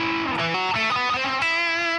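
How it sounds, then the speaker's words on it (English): Electric guitar played with a rhythm tone whose saturation grows with harder picking: a run of sustained, harmonically rich chords and notes, loud and close, with no voices. "And the harder I hit it, the more saturation I get."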